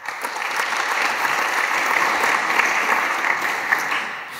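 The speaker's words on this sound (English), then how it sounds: "So give a round of applause for Ralf and enjoy his talk." An audience at a conference talk on Python and R claps, producing a dense, steady wash of applause that holds for several seconds before tapering slightly at the end.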